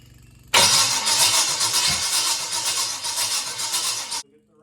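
A freshly built 350 Chevy small-block with 6-inch rods, fitted in an HQ Holden Kingswood, fires for its first start: an abrupt, loud, steady roar of about four seconds that cuts off sharply.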